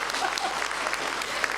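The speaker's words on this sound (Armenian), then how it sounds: "ծափերով դիմավորենք" An audience at a company career event applauds, a steady wash of clapping from many hands throughout.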